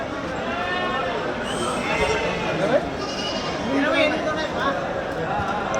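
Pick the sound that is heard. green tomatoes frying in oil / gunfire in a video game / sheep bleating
sheep bleating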